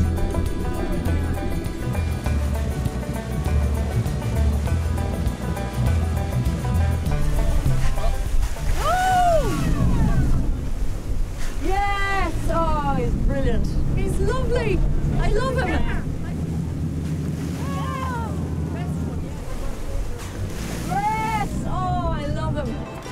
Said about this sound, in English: Something you have to do in Dingle is take a boat ride to meet its most famous resident